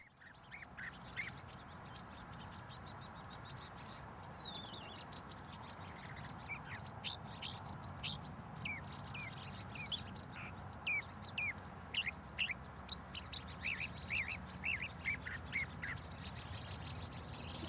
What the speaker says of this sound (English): There, you may have an opportunity to see and hear more birds